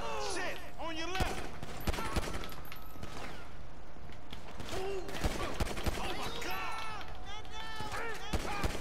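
A chaotic gunfight in Grand Theft Auto V, with bursts of automatic gunfire and sharp shots ringing out repeatedly under frantic shouting voices.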